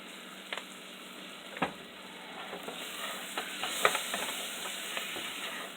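Chili peppers going into a pot of creamy Mexican soup, heard as a soft background sizzle with scattered light scrapes and clinks of stirring, fairly quiet, no voices.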